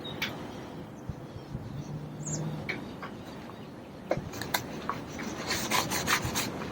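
A coat of finish being rubbed by hand onto a refinished Remington Shur Shot wooden box, a soft close scrubbing rasp with a few sharper scuffs and taps toward the end.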